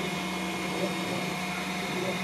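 The cooling fan of a Flashforge Adventurer 3 3D printer gives a steady whirring hum with a constant tone, moderately loud and close and holding level throughout, with no voices over it.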